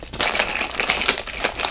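Keys jingle and clink as they are pushed into a small pink Chanel pochette, a close, busy metallic rattle with light rustling and no talking.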